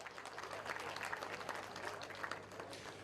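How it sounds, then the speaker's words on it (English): An audience at a boxing event breaks into sustained clapping, a dense even wash of many hands over a faint hum, moderately loud and continuous throughout. "A round of applause in his absentia"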